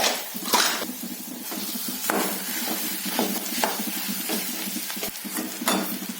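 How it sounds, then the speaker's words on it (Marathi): Boiled potato being stirred into a frying tempering of mustard seeds, green chilli, onion and turmeric, with a continuous close sizzle and repeated scraping stirs of the spoon. "आता उकडलेला बटाटा याच्यात घालून घेऊ आपण।"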